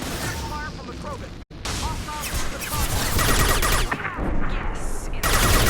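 Krogan gunfire in Mass Effect 2 rattles in rapid bursts through a busy game battle, loud and close, mixed with voices and other combat noise.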